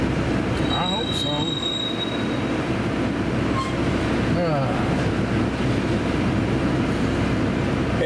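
A CSX freight train, CSXT M512-01, departs Howell Yard with loud, high-pitched wheel squeals in several bursts over a continuous low rumble of rolling railcars.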